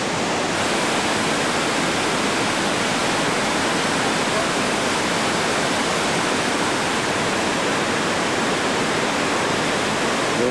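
Heavy whitewater river rapids in the Grand Canyon roar in a dense, constant wash of broadband noise, loud and unbroken with no pauses.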